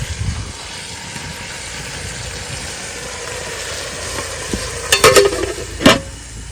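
Chopped tuti and ponnaganti leafy greens stir-fried in a pan at an outdoor farm cooking spot, with a steady low sizzle, a few clinks and scrapes of the spatula near the end, and no talking.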